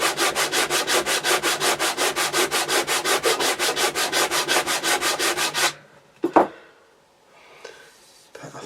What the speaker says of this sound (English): I'm sanding it with 60 grit paper, which is working